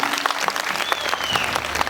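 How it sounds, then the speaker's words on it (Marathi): An audience at a comedy games event bursts into continuous clapping, a dense, lively applause that fills the whole moment with a few faint voices mixed in. "जर हेच आवडलं तर नक्की टाळ्या वाजवा."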